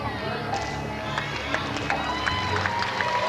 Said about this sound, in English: the crowd really giving Sally Ironmonger some support here